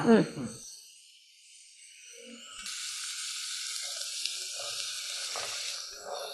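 Chopped vegetables such as carrots and beans tipped into a hot pan with tomato and left to sauté, a broad steady sizzle starting a few seconds in and continuing at moderate level, with occasional voice fragments underneath.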